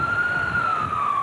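An ambulance siren wails loud and steady as a single sustained, slowly falling tone over a rumbling roadside background, with no talk.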